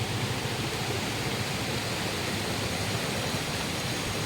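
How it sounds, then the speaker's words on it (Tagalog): A small mini falls at Balagbag Falls in Real, Quezon pours in a constant, dense rushing hiss, close and unbroken with no voices. "So, dito merong medyo maliit na falls. Yung mini falls."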